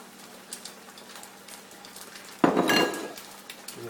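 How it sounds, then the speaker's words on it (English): An egg drops into a hot pan with a sudden loud burst of sizzling and clatter about midway, the frying continuing steadily afterward over quieter earlier kitchen sounds. "Alright, in goes the egg."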